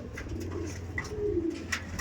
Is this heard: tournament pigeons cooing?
yes